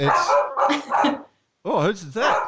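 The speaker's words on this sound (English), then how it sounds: "That's a dog in the background." A Portuguese water dog named Bax barks and yips repeatedly in short bursts, fairly close and clear, pausing once before barking again while a person speaks over it.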